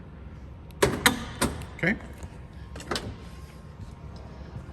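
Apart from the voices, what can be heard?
electric door popper opening 1968 Chevrolet Nova driver's door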